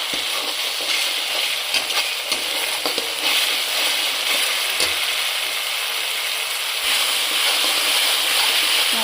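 Mustard-poppy seed paste masala with ginger paste frying for bata fish, a loud, steady, close hiss and sizzle with occasional faint stirring scrapes.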